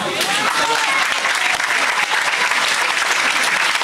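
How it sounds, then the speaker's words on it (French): Dense, sustained applause from an audience at a French community gathering, a continuous wash of many hands clapping at an even level throughout, with no clear voice rising above it. "Merci, on peut les applaudir."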